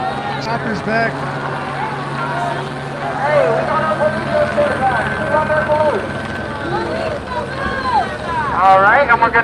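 A police helicopter hovers over a Beverly Boulevard street protest in Los Angeles, its steady rotor throb sitting under loud crowd noise as people talk and call out nearby.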